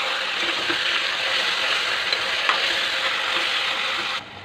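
Chicken with red onions, turmeric, salt, chilli and spices being stirred in a pot for biryani, a continuous steady sizzle and scraping hiss that stops abruptly at the end, no talking.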